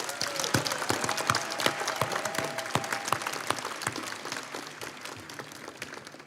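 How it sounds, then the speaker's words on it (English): Graduates of the NYU Shanghai Class of 2025 receiving applause from a large convocation audience, with dense sustained clapping that fills the hall and slowly fades toward the end. "let's have one more round of applause for all of the 2025 graduates"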